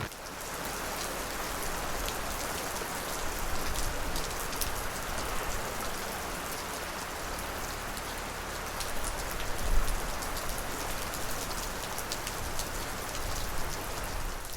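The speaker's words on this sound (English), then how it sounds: "I'm watching the rain on the Tesla." Steady rain patters on the body of a Tesla Model 3 and Model Y parked side by side, a dense even hiss of drops with no voices, lasting throughout at moderate loudness.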